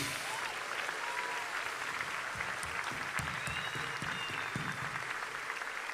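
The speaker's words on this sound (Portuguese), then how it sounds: "você pode celebrar a Deus com palmas por esses homens?" A church congregation at a missions symposium applauds its pastors, a steady wash of clapping from a large crowd that fills the whole stretch at moderate level, with a few scattered voices mixed in.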